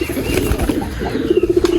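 Domestic pigeons kept in a loft flutter their wings close by, a steady rush of flapping under soft cooing, with faster wingbeats toward the end.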